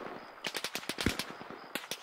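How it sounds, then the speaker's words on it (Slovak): Rapid machine gun bursts crack out in Arma Reforger, a fast string of sharp, loud shots with a brief pause before two more rounds. "To boli palby jak z gulometu."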